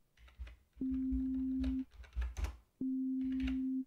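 Two sustained pure sine-wave notes at middle C from an OP·A synthesizer shield on an Arduino, each about a second long, separated by soft clicks and tapping.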